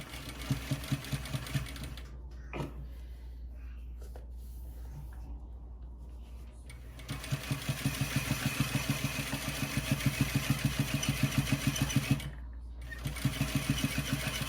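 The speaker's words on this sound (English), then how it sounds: "So I'm gonna go ahead and sew this on using a regular stitch length." A sewing machine stitches foam bra cups at a regular stitch length of 2, its rapid needle rhythm running close and steady in two bursts with a short pause between, alone without talk.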